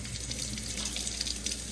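Tap water runs steadily into a kitchen sink, a continuous close hiss and splash at low volume with no talking.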